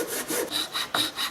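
Juniper wood being debarked with a series of quick, rhythmic scraping strokes, about five rough passes in a row, close up with no talking.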